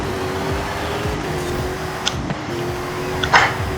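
A 2021 Toyota Supra engine in the video game Forza Horizon 5, giving a steady, fairly loud engine drone with shifting pitch and a few short clicks and knocks, heard without talk.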